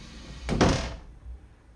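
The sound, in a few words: robot-actuated automatic machine door closing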